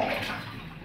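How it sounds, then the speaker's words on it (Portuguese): Dirty laundry wash water drains from a sink, a brief gurgling rush that starts loud and fades slightly. "vamos tirar essa água aqui suja,"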